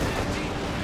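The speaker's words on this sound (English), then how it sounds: "Those heavy mortars are just pure evil." Heavy mortar barrages in a Company of Heroes 2 match, a dense continuous rumble of explosions and gunfire with no break.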